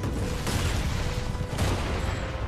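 Dense, continuous gunfire crackles around the player in a Titanfall 2 firefight, loud and close, with two sharper bursts cutting through a steady low rumble of battle noise.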